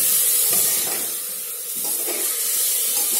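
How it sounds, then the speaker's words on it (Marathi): Ingredients for moong dal khichdi sauté in a hot pan, giving a loud, continuous sizzling hiss with stirring scrapes that swell and ease through the clip. "आता याला पण परतून घेऊ"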